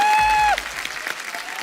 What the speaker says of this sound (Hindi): जोरदार तालियां अक्षय बाजी के लिए।